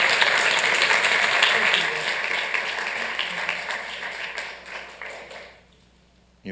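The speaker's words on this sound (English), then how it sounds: "let's give David Basin a big round of applause" A city council meeting audience gives a dense round of applause that thins out and fades to near silence, with faint voices heard as it dies down.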